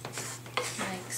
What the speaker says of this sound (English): Just take your wooden spoon, combine the oats and the flour